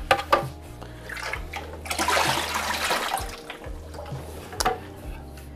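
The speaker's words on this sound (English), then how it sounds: "Now I can discard the water, the remaining" Leftover water being poured out of the tank of a Breville Barista Express espresso machine after descaling with Durgol, a continuous splashing gush over a low steady hum, swelling in the middle and trailing into drips.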